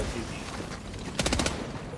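A short, rapid burst of machine gun fire in a game stands out over a steady background rumble, about five quick shots fired close together.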